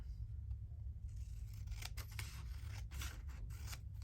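Scissors snipping through paper, a quick series of close, crisp cuts in an otherwise quiet room.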